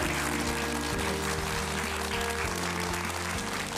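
Warm applause from a studio audience for a singer after her song on a Korean talk show, steady clapping filling the whole stretch with a low musical tone sustained beneath it.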